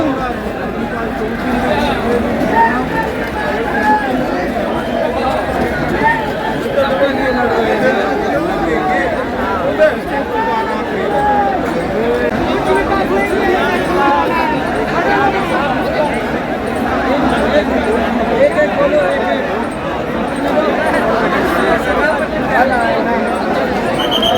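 A huge rally crowd fills Ramlila Maidan in Delhi with dense, steady chatter and babble, many voices blending into one continuous hubbub that holds at the same level throughout.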